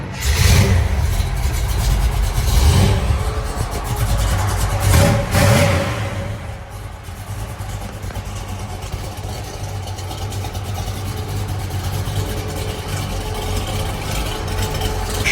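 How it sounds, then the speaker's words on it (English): A 1965 Chevrolet C10 show truck's engine fires up with a couple of loud revs, then settles into a steady, close, rumbling idle that continues throughout. "Let me fire it up for you really quick."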